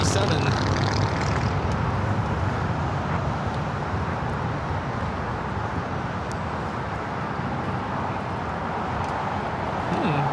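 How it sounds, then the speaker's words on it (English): Boeing 767 taking off at LAX, a broad steady jet roar that holds loud and constant throughout, mixed with distant airport and road rumble, with voices talking faintly in the background. "That's LAX Air 403 taking off to Cincinnati on the 767."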